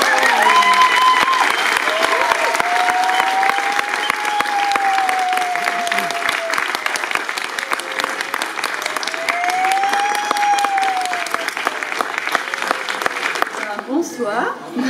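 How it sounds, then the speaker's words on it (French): An audience at the Silo festival in Argentat, an organic bulk grocery, applauds the Silo team with sustained close clapping, while a voice carries on over the crowd through most of it. "Et on peut vraiment les applaudir."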